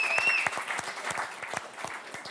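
A small audience gives a short round of applause, individual claps fairly distinct and loose in rhythm, with a brief whistle-like tone at the start.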